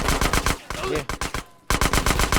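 Close-range gunfire in GTA San Andreas: rapid bursts of loud shots in quick succession, a brief pause, then another dense volley, with faint voices underneath.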